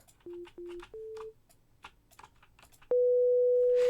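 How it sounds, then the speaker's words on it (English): Pure sine wave tone from a software synthesizer, heard as a few short steady beeps at different pitches followed by a long sustained tone, alone without talk. "let's pick a sine wave"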